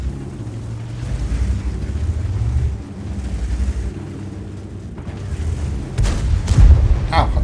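A heavy tank gun boom from the Senlec light tank in World of Tanks, one loud shot firing late over a continuous low engine rumble, with someone talking.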